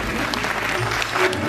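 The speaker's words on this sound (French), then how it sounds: "je crois qu'on peut les applaudir très très fort" A French audience applauds loudly and steadily at a community event celebrating 'super mamies', the dense clapping filling the room without pause.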